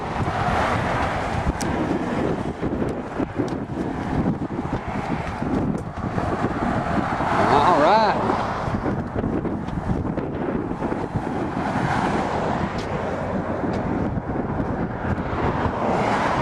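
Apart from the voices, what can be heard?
wind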